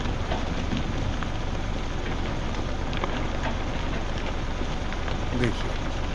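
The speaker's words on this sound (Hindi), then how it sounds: "ऊपर से पत्थर वत्थर गिर रहे हैं, और देखिए धूल मिट्टी, और बड़ी लैंडस्लाइड है" Rocks and stones tumble down a slope in a landslide in the Darma Valley, a dense continuous rumble and clatter with occasional sharper knocks, loud and close throughout.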